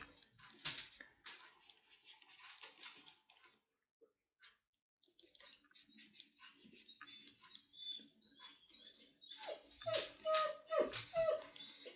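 A pet dog whimpers and whines in short high squeaky bursts near an indoor drawing spot, with scuffling and light movement noises between the cries.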